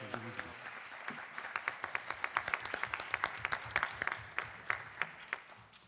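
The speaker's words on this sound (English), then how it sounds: "So how about a round of applause for our bus drivers?" An audience at a school board meeting applauds bus drivers, steady moderate clapping from a modest crowd indoors, fairly quiet and continuous throughout.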